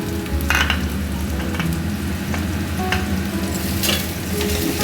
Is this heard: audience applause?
no